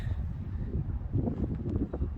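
Wind gusting across the shore of Lake Ronkonkoma on a chilly spring day, a steady low buffeting rumble on the microphone with no speech.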